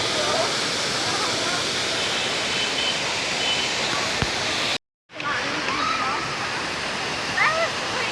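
Steady, full rushing of water flowing through a stream at a national park in Iloilo, Philippines, close and continuous apart from a brief cut, with faint voices in the background.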